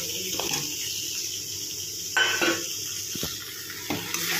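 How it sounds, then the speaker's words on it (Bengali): Pointed gourds going into a pan of hot oil after a spiced masala base has cooked down, then being stirred: a soft, continuous sizzle broken by a few sharp scraping and clattering strokes of a spatula, fairly quiet and close. "এবার আমি পটলগুলো দিয়ে দেবো।"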